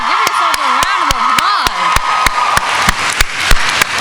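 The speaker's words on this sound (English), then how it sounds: "applause" Students at a college convocation applaud and cheer, with dense, loud clapping throughout along with whoops and a few voices rising over the crowd.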